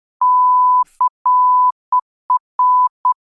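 Censor bleeps covering swear words, a loud, pure electronic tone in a run of short and longer pulses separated by silence.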